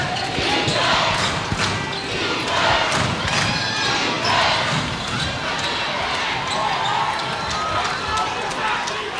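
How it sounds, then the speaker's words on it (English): A crowd at an NBL basketball game between the Nuggets and the Hawks keeps up a loud, continuous roar of cheering, with sneaker squeaks and ball bounces mixed in and a commentator talking over it. "Well, the crowd is certainly getting into it now."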